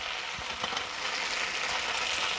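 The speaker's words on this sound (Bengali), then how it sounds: "তারপর আমি পেঁয়াজ আর কাঁচা লঙ্কাটাও দিয়ে দিলাম।" Onion and green chilli fry in plenty of oil in a pan, a dense, even sizzle that holds steady and close throughout.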